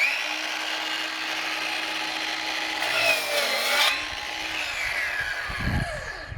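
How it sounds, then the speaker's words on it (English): Dewalt 20V Max cordless 7-1/4-inch sliding compound miter saw slicing through 3.5-inch wooden casing molding on a bevel cut, a steady close whine and rasp of the blade in wood that swells midway, then spins down at the end. "when you're cutting through baseboard molding and you need to make a bevel cut"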